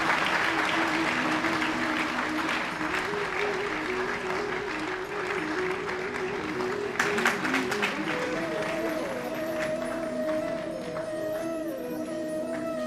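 Steady applause from a crowd fills a college seminar hall, with a sustained tone and some music-like pitches running underneath.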